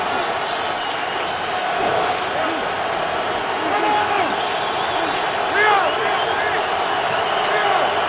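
Steady roar of a football stadium crowd at a Denver Broncos at Cleveland Browns NFL game, continuous and loud throughout with swelling cheers and whistles, a commentator's voice running over it.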